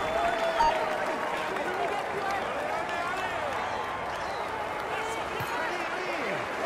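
A crowd cheers in the Tour de France 2020 video game on PS4. The dense, steady roar of the crowd stays moderate throughout, under a voice talking.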